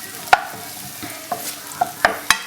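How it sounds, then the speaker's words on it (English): Red and white onions frying in oil are stirred with a utensil, giving a few sharp scraping clacks against the pan over a low, steady sizzle, close and fairly quiet with no talking. "So we've put the oil in and I'm just gonna give it a bit of a mix around."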